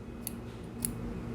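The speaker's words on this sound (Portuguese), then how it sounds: "vou cortar o fio bem rente" Scissors snip crochet yarn right against a tight knot on a crocheted bag strap, giving two quick, light cuts about half a second apart over a quiet room.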